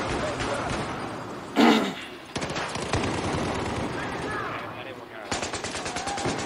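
Bursts of rapid automatic gunfire in a Battlefield 4 squad deathmatch, loud and close, with a sharp louder shot near the middle and dense rattling volleys continuing throughout.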